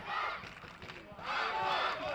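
Spectators cheer and roar in the stands at a Tibilisi football match, a broad crowd wash that swells again in the second half, with no talk over it.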